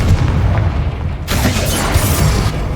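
A Confringo spell explodes in Hogwarts Legacy with a loud, close, low boom and rumble, then a sharper crackling burst about a second in that trails off into a rolling roar.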